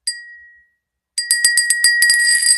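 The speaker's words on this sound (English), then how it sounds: "That is a beautiful Bohemian Cobalt Blue bell" A Bohemian cobalt blue glass bell with gold trim, rung by its clapper: one clear ring that fades, a pause, then a quick run of bright, close chimes that ring on together.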